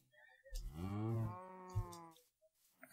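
A single drawn-out cow moo from Minecraft, a low, rising then steady bellow lasting over a second, close and clear, followed by a short quieter grunt.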